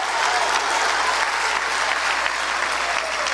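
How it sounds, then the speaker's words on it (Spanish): Congregation at a Christian sermon bursts into loud, sustained applause, a dense, steady wash of many hands clapping together with no break across the few seconds. "Un aplauso."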